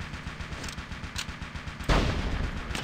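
Video game gunfire in a shooter: a rapid stutter of shots followed by a louder, heavier blast near the end, with no talking.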